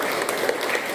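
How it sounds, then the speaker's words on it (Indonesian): A classroom of students clapping together briefly, a quick burst of close, evenly dense applause lasting about a second. "Ya, tepuk tangan"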